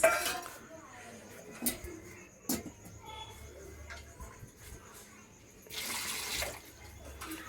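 Water from a glass splashes and trickles onto a smoky traditional clay stove with clinks of the vessel, a longer pouring rush near the end, over faint background speech.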